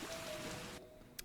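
Steady rain falls in the Whisper of the House video game, a dense hiss for most of the moment before it abruptly thins to a quieter patter with one brief bright tick near the end.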